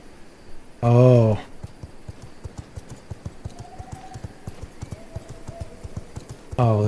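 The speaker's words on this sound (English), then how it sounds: "Now, it'd be nice as if I could ride a horse." Horse hooves clip-clop in a steady, fairly quick rhythm while riding in the vampire survival game V Rising, with a brief low vocal burst at the start and again at the end.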